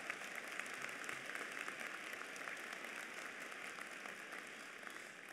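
An audience at a spring undergraduate commencement ceremony applauds the dean of engineering with steady, dense clapping that holds evenly throughout, without speech.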